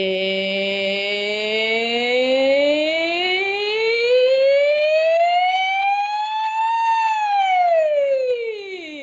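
Voices imitate a police siren, a continuous harmonic wail that slowly rises in pitch, peaks, then falls, loud and sustained throughout.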